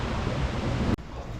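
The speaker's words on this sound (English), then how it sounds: "Look at the sound of that sea." Broad, loud rushing roar of sea surf washing onto a beach in Bucerías, Mexico, continuously, briefly cut off near the end, then resuming at a lower level.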